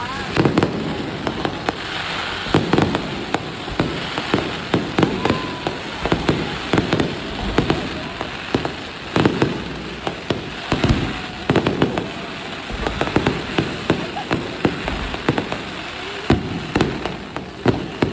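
Fireworks and firecrackers burst at a Chinese New Year celebration on Binondo bridge, a dense, continuous crackle of sharp pops and bangs throughout, with crowd voices and chatter mixed underneath.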